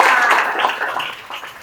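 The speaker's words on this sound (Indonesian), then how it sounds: "Oke, kita tepuk tangan buat Benaya." A burst of applause from a group of children, dense clapping that fades somewhat over a couple of seconds, with no speech.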